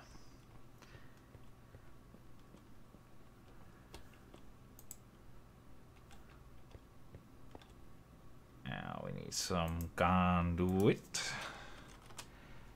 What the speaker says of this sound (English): I was typing here